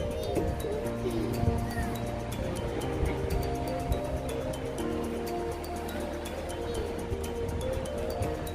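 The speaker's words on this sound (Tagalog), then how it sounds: "Maaga pa lang pero ang lakas na ng alon ng tubig, oh." Strong sea waves at Scheveningen beach in the Netherlands roll in early in the morning, giving a steady, broad wash of surf with no clear breaks, heard from nearby without speech.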